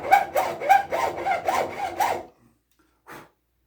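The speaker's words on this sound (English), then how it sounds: "one of the things that I like about using this hacksaw" Hacksaw with a flexible blade cutting wood for a rocking chair: about six rhythmic back-and-forth strokes, close and loud, then a pause and one short final stroke.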